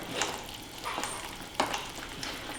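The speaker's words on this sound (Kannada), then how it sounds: "ಚೆನ್ನಾಗಿ ಹೊಂದ್ಕೊಳ್ಳೋವರೆಗೂ ಈ ಥರ ಮಿಕ್ಸ್ ಮಾಡ್ಕೋಬೇಕು." Banana halwa stirred in ghee in a pan, a soft steady sizzle with scraping strokes of a spoon at a slow rhythm, close and moderately quiet.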